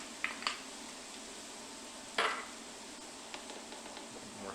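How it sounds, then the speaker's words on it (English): Mushrooms with shallots and butter sauté in a pan: a soft, fairly faint steady sizzle punctuated by a few clinks and scrapes of utensil against the pan. "Give them a little saute."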